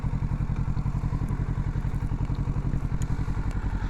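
A motorcycle engine idling close by, holding a steady fast throbbing rhythm with no voices.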